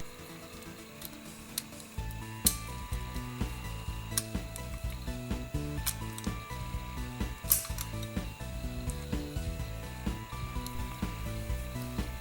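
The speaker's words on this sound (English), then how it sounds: "I can work on removing the operating slide from the carrier lugs." Metal parts of a Winchester Model 77 rifle click, scrape and clack as its operating slide is worked off the carrier lugs, close and quiet with irregular sharp ticks.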